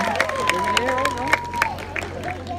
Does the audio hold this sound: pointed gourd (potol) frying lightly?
no